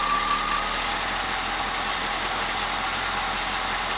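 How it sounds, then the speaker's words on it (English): A car engine idling steadily up close as a vacuum hose is pushed back on, a continuous even drone with no talking and only a subtle change in engine speed. "I'll put the hose back in and listen to it rise."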